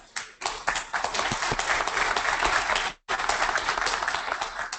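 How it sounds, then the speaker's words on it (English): Audience applause at a leadership conference session, a dense steady patter of many hands that breaks off briefly near the end and then resumes. "Please give him a huge round of applause."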